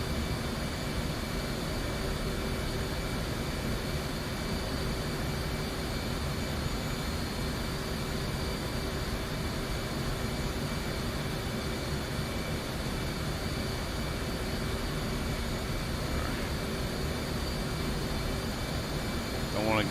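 The F/A-18C jet engine in a flight simulator game drones as a constant, dense roar with a faint high whine, steady and unchanging throughout, with no talk.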